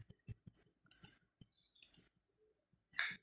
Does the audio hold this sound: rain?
no